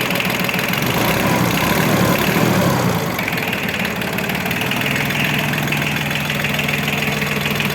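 Yanmar AF15 Japanese mini tractor engine idling with the hood open, a loud steady close-up diesel chug with a slight drop in tone after a few seconds.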